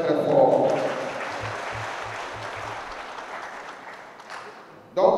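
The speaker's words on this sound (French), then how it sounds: "je vais vous demander de les acclamer très très fort" An audience at a public conference of the Africa Revolution movement claps loudly, a dense burst of applause that peaks at the start and slowly fades, with a voice heard over it and a sharp sound near the end.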